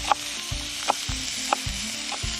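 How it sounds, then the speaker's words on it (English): Onions sizzle and hiss in a hot pan, with a few soft stirring scrapes at regular intervals and no talking. "I have some onions sizzling in my skillet right now"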